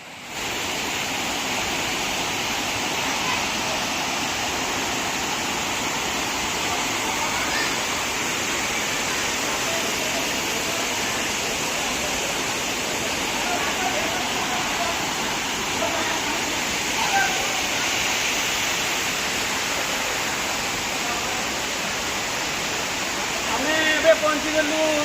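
The Chaulabhaja waterfall in Odisha gives a loud, constant roar of rushing water that fills the whole stretch without letup. Voices talk faintly under the steady noise.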